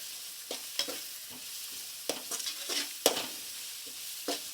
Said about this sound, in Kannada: ಗೋಲ್ಡನ್ ಬ್ರೌನ್ ಬರ್ತನಕ ಫ್ರೈ ಮಾಡ್ತೀವಿ